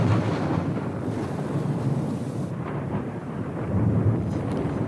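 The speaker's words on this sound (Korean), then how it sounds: "그냥 천둥 소리가 어마어마합니다." Thunder rolls outside on a windy day before evening rain, a deep, continuous, loud rumble that swells slightly near the end, with no talking.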